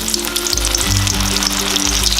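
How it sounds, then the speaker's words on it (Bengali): Batter-coated Bombay duck (loitta) fish fry in hot mustard oil over a low flame, a loud, close, continuous crackling sizzle with a low steady hum beneath it. "তেলটা গরম হলে ম্যারিনেট করে রাখা মাছগুলোকে এইভাবে ব্যাটারটার মধ্যে রেখে খুব ভালোভাবে মাখিয়ে তেলের মধ্যে ছেড়ে দেব"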